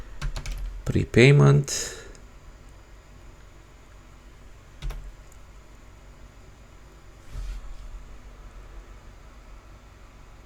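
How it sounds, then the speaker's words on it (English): Keys clack on a computer keyboard while a prepayment percentage is entered in Business Central accounting software; a short burst of typing comes early under a brief spoken word, then a few isolated taps later, otherwise quiet. "let's just type here"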